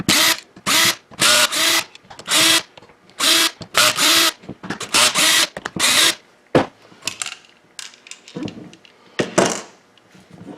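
A power drill backs screws out of the base of a stuck, noisy utility pump, whirring in short repeated bursts that come on and cut off, loud and close, with quieter scattered clicks and knocks toward the end.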